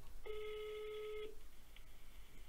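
A WhatsApp call ringing tone sounds once as a clear steady electronic beep of about one second, faint and close, followed by quiet background noise.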